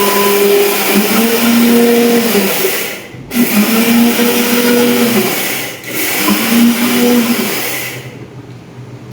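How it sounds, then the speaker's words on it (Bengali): A kitchen mixer grinder whirs loudly, grinding salt-roasted rice into powder in three bursts with brief pauses between them, then it stops. "এই যে মিক্সিতে আমার বর রেডি। তো চালিয়ে দাও ঝুম করে।"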